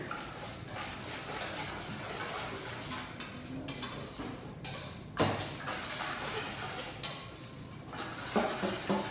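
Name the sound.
stirring vegetables coated with brown sugar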